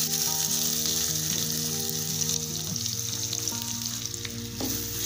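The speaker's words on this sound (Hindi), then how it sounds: "ஆனியன் நல்லா ஃப்ரை ஆயிடுச்சு" Onions fry in a pan with a steady, fairly loud sizzle, while a tonal, melodic background runs underneath the whole time.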